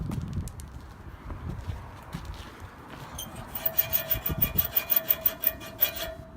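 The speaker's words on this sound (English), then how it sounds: "He's got his power tool, y'all." A power tool cuts at the exhaust during a muffler delete on a Subaru Legacy, beginning with scattered rough rasping and moving into a fast, regular series of loud grinding strokes that repeat close by.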